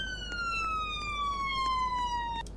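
A police car siren in the Roblox video game wails in a single long descending sweep, fairly faint over a low steady background hum.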